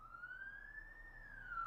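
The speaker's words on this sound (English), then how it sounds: "let the ambulance pass." Ambulance siren passing by, a steady rising and falling wail that swells slightly louder toward the end over low background rumble.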